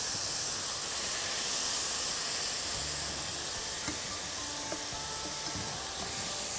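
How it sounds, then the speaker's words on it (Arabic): Chicken cooking in a pan over high heat, a steady loud hiss and sizzle throughout with a few faint clinks, no talking. "هخليهم بقى كده على النار بس لغاية ما يبتدوا يستووا"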